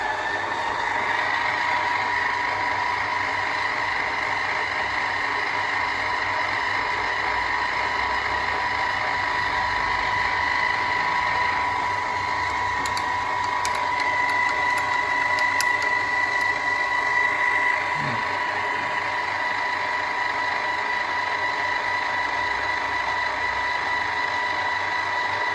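A milling machine takes a shallow 1 mil cut on a metal vice handle. The motor and cutter make a steady, moderately loud whine with a faint clink near the middle.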